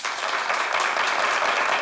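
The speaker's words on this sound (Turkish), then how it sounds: "Alkış yapsınlar ya da." Studio audience of a Turkish sketch comedy show clapping loudly and steadily, a dense crowd of hands close up for a short burst.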